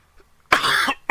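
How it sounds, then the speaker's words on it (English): A single sharp human cough, close to the microphone, from someone recovering from illness, followed by a brief catch of breath at the end. "I don't mean to cough in your ear, but I'm just getting over being sick"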